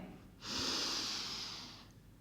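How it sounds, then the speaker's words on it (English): One long, deep yoga breath drawn through the nose during a backbend and twist power yoga session, a steady airy rush lasting over a second that fades slowly, close and clear with no talk. "2 more big breaths here"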